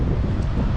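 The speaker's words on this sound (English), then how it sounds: "very windy too." Strong wind buffets the microphone on a beach, a brief steady roar of low rumbling gusts with no speech.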